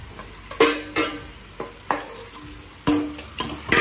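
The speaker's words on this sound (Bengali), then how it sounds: "এবারে এটা কষাচ্ছি" Marinated chicken stir-fried with potatoes in a pan, soft sizzling cut by repeated scraping strokes of a spatula at an uneven rhythm, close and moderately quiet.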